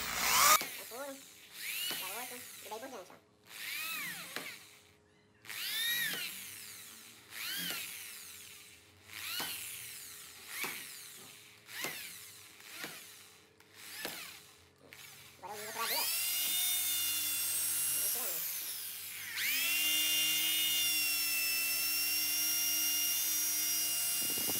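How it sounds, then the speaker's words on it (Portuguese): A power drill bores a hole in a Volkswagen Saveiro car part, its whine revving up in short repeated bursts before settling into one long, steady, high-pitched drilling run close by. "Eu vou furar ele."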